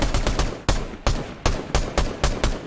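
Rapid bursts of gunfire from a weapon in Fortnite, about eight sharp loud shots in uneven clusters, each decaying quickly, with no talk over them.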